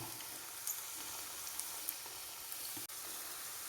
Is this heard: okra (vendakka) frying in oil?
yes